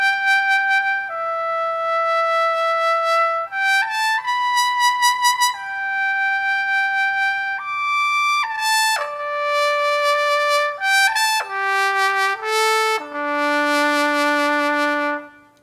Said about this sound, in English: Now the regular trumpet sounds like this.